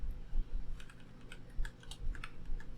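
Keys clack in quick, uneven bursts as commands are typed on a computer keyboard during a LAMP stack and phpMyAdmin install on Ubuntu, close and fairly soft over a low hum.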